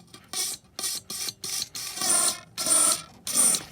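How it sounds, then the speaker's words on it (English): Silicone lubricant sprayed from an aerosol can in several short hissing bursts, then longer sustained sprays, close and fairly loud with no talking. "you can bet that the silicone spray is going to come out all over the couch"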